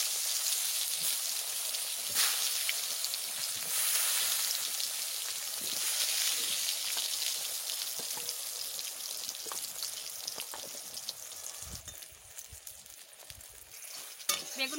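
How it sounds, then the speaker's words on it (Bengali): Eggplant slices coated in turmeric and salt frying in hot oil, a steady crackling sizzle with popping spatters, close up and continuous. "এবারে ভাজা বসাই দিচ্ছি"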